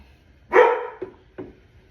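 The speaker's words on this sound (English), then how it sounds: "hopefully my dogs don't bark too much" Dogs bark once loudly near the microphone, a harsh bark followed by two shorter, quieter yelps, heard indoors during a home candle-making session.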